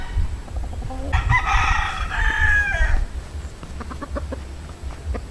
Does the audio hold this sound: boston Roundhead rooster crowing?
yes